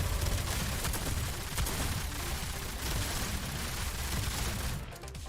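Machine guns and shotguns blaze in the video game Girls Frontline, a continuous dense barrage of rapid overlapping shots with sharper bursts cutting through, staying loud until a brief dip near the end.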